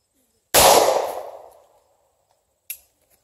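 A single sharp, loud gunshot from a Winchester .40 caliber flat-nose plinking round fired into an expired, wet Second Chance Ultima Level II body armor vest, with a long decaying tail and a faint click afterward.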